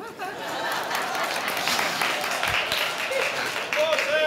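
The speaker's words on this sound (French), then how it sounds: "S'il vous plaît, applaudissez-moi" A church congregation applauds during a pastor's sermon: a steady, dense wash of clapping that holds throughout, with faint chuckles and voices mixed in.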